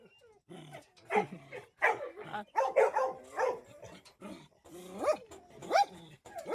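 Several dogs at a kennel, including a Rajapalayam, bark, growl and yip in overlapping bursts, close and loud, with brief whimpers between the barks.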